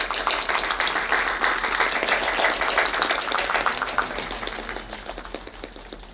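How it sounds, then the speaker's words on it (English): Audience at a college techno-cultural fest inauguration claps in a dense, sustained round that gradually thins and fades toward the end. "Please give a big round of applause."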